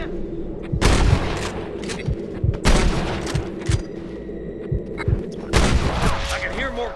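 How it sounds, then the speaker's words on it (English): Gunfire in the video game Red Dead Redemption: several loud, sharp shots ring out at irregular intervals, with smaller pops in between, over a busy background of battle noise. "I can hear more gunshots."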